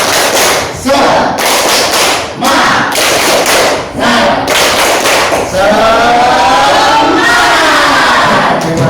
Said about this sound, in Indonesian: kita memainkan lagu tepuk semangat dalam hitungan 1, 2, 3